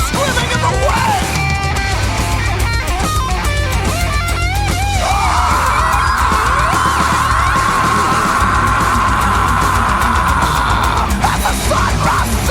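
A song plays loud and dense, a distorted full-band wall of sound with a long sustained tone held through the middle section.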